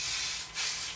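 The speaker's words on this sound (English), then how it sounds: "I decided for the sake of the video that I'd spray some of the hairspray in." A short continuous hiss of hairspray from an aerosol can misted onto curled hair, close and steady for about a second with a slight dip midway, no voice.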